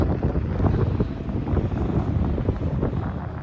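Strong, cold wind at Cannon Beach buffeting the microphone in continuous gusty rushes, loud and close, with no talking.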